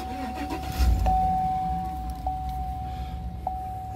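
A 2018 Chevrolet Silverado 1500 High Country pickup starting up from the driver's seat, a brief cranking burst that settles into a steady idle, with a constant chime tone ringing repeatedly through the cabin.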